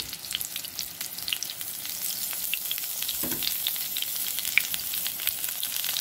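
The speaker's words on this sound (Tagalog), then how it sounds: "Now, ilalagay na natin siya sa mantika." Halved eggplant fries in oil with a dense, crackling sizzle full of quick pops, loud and close, holding steady throughout without speech.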